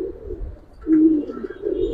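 Giribaz and coloured pigeons coo in low, throaty rolls, close and clear, with a brief lull between calls.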